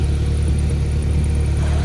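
The 2.0-liter Polaris ProStar engine of a 2020 Polaris Slingshot R AutoDrive runs with a loud, steady low rumble and no break or voices.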